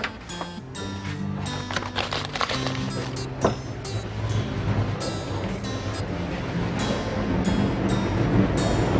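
A gas stove burner is lit and burns with a steady, broad rushing hiss that grows slightly louder over several seconds, close and continuous, with no talking.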